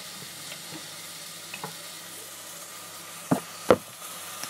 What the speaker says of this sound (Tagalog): tignan na po natin yung aking ginisa